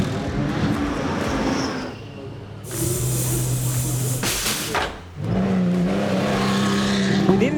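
Porsche 911 GT3 R race car at full racing pace on a circuit, its engine roaring loudly and steadily, swelling as it passes, with a brief dip before the roar returns.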